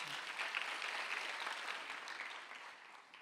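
A church congregation claps together during a Sunday worship service, a dense, even wash of applause that fades slightly toward the end, with no voices over it.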